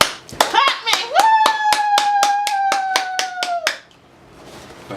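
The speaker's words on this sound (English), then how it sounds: "Clap me!" A quick burst of hand clapping, sharp evenly spaced claps repeated about a dozen times over a few seconds, close and loud, with a short sung or whooping voice under the claps.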